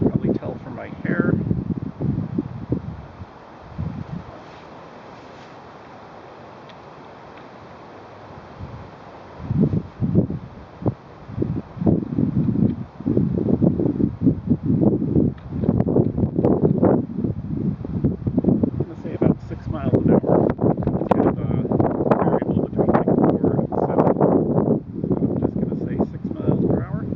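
Wind gusting outdoors at a residential field site, buffeting the microphone in loud rumbling bursts that come and go, with a person talking throughout.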